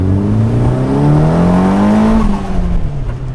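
A turbocharged Nissan S15 Spec R with an SR engine, rough and crash-damaged, revs hard and loud, its pitch climbing steadily then dropping off as the driver eases back, with a rough, throaty tone throughout.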